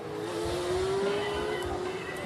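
A historic Formula 1 race car at a Carfest South event screams past at high revs, a sustained rising engine whine heard from trackside amid faint crowd and ambient noise.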